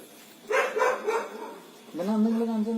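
A dog barks a few times in quick succession, close by, followed by a longer whining or howling yelp.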